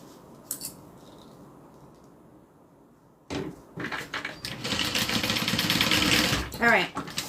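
Bag pieces for a Denver by Swoon bag are stitched on a sewing machine, the close mechanical whir starting abruptly after a quiet stretch and a couple of small clicks, then running steadily for several seconds.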